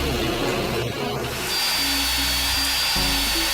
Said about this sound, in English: I cleaned up the base of the puzzle by running it through the table saw